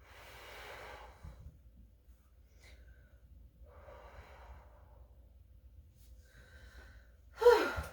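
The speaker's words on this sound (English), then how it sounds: "Take some deep breaths with me." Slow, deep breaths during a yoga session for period relief, drawn in and released in long soft waves in a quiet room, ending with a sharper, louder exhale.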